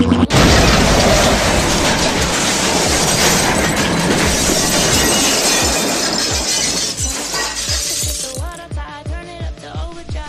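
Video game weapon fires and lands a heavy explosion hit, a loud sustained crashing blast that rumbles for several seconds, then breaks into a series of rhythmic thudding impacts with metallic ringing debris as it fades.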